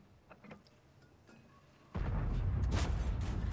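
A tank gun fires in World of Tanks on the T26E5: a sudden loud, close boom breaks a quiet stretch, then a dense roaring rumble carries through to the end.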